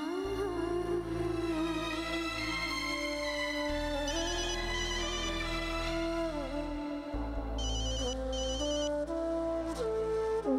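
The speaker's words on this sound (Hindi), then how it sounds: "ब्रजेश का फोन है।" A phone ringtone plays a continuous electronic melody for several seconds, bright and steady, with no talking.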